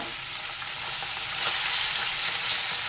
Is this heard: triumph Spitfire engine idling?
no